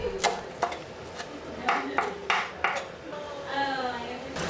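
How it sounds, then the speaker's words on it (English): A knife chops green onions on a chopping board in a home kitchen, giving a handful of sharp, irregular knocks, then a short metallic ring near the end. "with a clean knife and a chopboard, chop some fine pieces of green onions"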